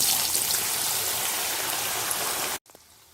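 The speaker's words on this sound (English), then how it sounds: "Heat the oil and fry the pieces." Bitter gourd pieces deep frying in hot oil, a dense, even sizzling hiss that holds steady for a few seconds and then cuts off abruptly, leaving faint clatter.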